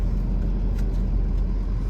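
Low steady engine rumble of cars idling and creeping in a traffic jam on a narrow mountain road on the way to Tungnath, continuous and fairly loud with no voices.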